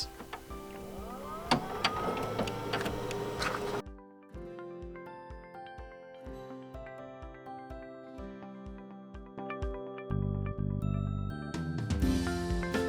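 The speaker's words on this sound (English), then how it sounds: "we're probably going to do a print nozzle check pattern and a print head cleaning" Canon Pro-1 photo printer printing a nozzle check pattern, with whirring motors, then rhythmic mechanical clicks and print-head carriage passes in a steady pulsing pattern, and tonal motor whines and feed sounds, close and clear.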